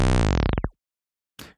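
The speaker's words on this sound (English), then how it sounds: "Where it like speeds up and slows down the recording every time you hit the button." A synth tone bends rapidly downward and stops in a tape-stop effect driven by a slow LFO, falling in pitch over about half a second, then silence before a short noisy burst.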